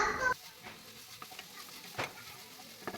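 Ginger and garlic fry quietly in a pan for paneer butter masala, a faint low sizzle broken by a few soft scrapes and clicks of stirring after a brief louder burst at the start.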